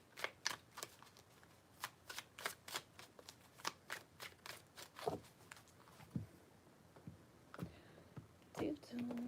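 Tarot cards are shuffled in a quick series of crisp riffling flicks, close and quiet, with faint whispering or soft talk in between.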